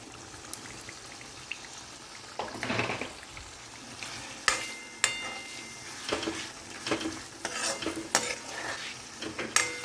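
Roasted brinjal mash for Kathiyawadi oro being stirred with onions in a pan, a steady close scrape and squelch of a spoon with clinks of utensil against metal and a low sizzle underneath, no talking.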